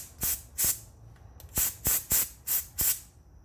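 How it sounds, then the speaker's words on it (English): Compressed air blasted into a freshly tapped threaded hole during a Helicoil thread repair on a 1988 Buick Electra: seven sharp, loud hissing bursts in an uneven rhythm, each cut off abruptly, close to the mic. "I'm gonna hit this hole with some compressed air"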